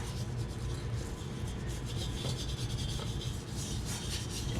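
Steady, continuous rubbing and scrubbing on the metal fount of a Coleman 200A-style 242C lantern as grime and oxidation are worked off, a close, even rasping texture with no pauses.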